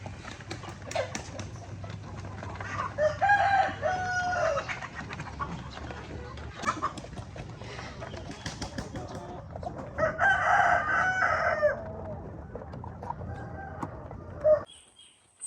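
Roosters that are Rhode Island Red and White Leghorn crosses crow loudly in two long bursts on a farm, with clucking, other birds and background noise in between.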